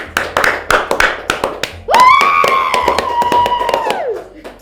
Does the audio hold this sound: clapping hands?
yes